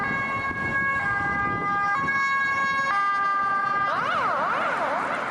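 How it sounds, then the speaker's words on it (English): Finnish ambulance and fire truck sirens wail loudly and continuously, shifting between steady two-tone blasts and a fast rising-falling yelp partway through, over a low rumble of road traffic. "those ambulances and fire trucks that run that siren are very bizarre to me"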